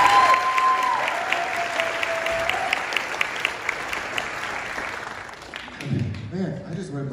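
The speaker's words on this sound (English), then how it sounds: "Another round of applause for them, please" An audience applauds a high school concert band after a Christmas concert piece, with steady dense clapping that fades over several seconds as a voice begins talking near the end.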